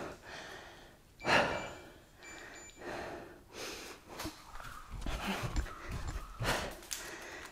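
Heavy, uneven breathing with sniffs and gasps from someone catching breath between exercises in a home workout, close and fairly loud, a few sharp inhalations standing out over several seconds.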